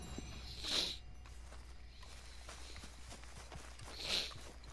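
Horse hooves walking in the Red Dead Redemption 2 video game: soft, quiet clip-clop steps in a loose rhythm over low ambience, with two brief brighter jingling accents.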